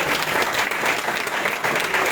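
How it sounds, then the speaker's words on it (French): A crowd applauds Luc Sombé at the TID 2024 draw ceremony, a steady, dense wash of clapping filling the short stretch without letting up. "une belle pépite que celle de Luc Sombé que vous pouvez applaudir très très fort"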